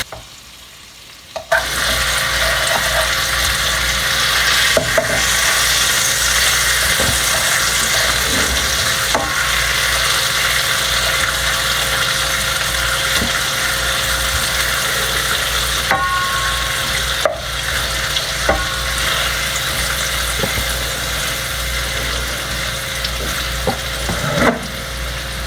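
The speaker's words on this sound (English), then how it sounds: "We're going to flip that bacon" Bacon fries in a pan, giving a loud, steady sizzle and crackle that runs without a break, with small pops and scrapes of stirring or turning, close up.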